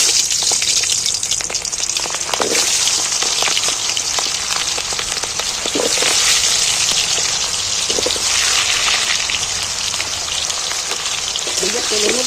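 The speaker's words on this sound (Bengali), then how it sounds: "এইবার আমি গোটা পেঁয়াজগুলো তেলের মধ্যে তুলে দিচ্ছি" Whole onions are dropped into hot oil that already holds cloves and cardamom for a chicken dish, setting off a loud, steady, rain-like frying hiss with occasional crackles that keeps going throughout.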